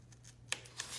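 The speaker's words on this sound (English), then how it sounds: "just start to cut along one side of the dotted line" Scissors cutting paper along a dotted line during a children's craft activity, two soft, close snips about a quarter second apart, faint and alone.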